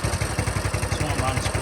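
A Honda CT200U motorcycle engine runs steadily with the choke shut off, a close, even low thumping pulse with a faint clattery edge throughout.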